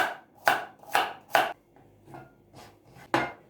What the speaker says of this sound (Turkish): Bu arada havuçları da ince bir şekilde doğruyorum.